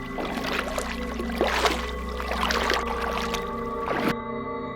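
Oars splash and water sloshes around a boat in irregular strokes over a steady low hum, with occasional gurgles and a sudden cutoff at the end.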